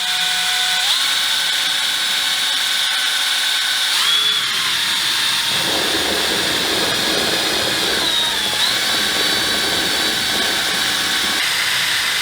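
A power drill with a stirring attachment whirs steadily while mixing wine in a stainless brew bucket, its pitch shifting and dipping several times as the load changes, loud and continuous with no talk.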